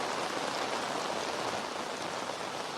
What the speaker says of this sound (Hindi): जयपुर के अंदर बहुत ज़्यादा तेज़ बारिश जो है वो हो रही है